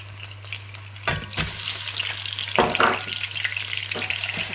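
Minced keema meat hitting hot oil in a pan and being stirred, a loud sizzle bursting up and holding steady, with a few scraping stirs and a constant low hum underneath.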